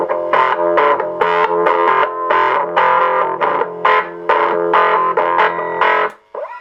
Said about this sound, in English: It's quite a nice distortion actually.